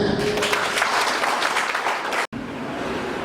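Audience applause fills a hall at an awards ceremony honouring top sellers: dense, steady clapping for about two seconds, cut off abruptly, then a softer wash of crowd noise.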